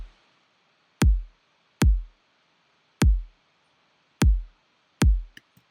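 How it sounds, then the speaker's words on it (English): Five basic 808 kick drum hits with shortened tails, each a deep booming thump with a quick decay, spaced about a second apart with silence between, played alone with no other sounds. "all this sample is just a basic 808 kick that I shortened the tail end of"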